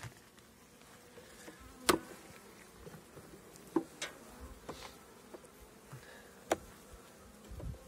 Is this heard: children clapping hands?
no